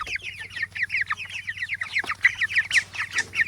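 Meat chickens crowding around a bucket of feed, clucking and chattering excitedly in a dense, continuous flurry of close calls, with no talking over them.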